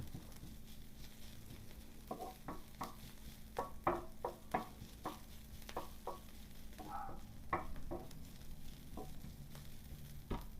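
Onions cook on a flat griddle until translucent for Southern diner-style flour burgers, a soft steady sizzle under irregular scraping and tapping of a spatula, moderately close and fairly quiet.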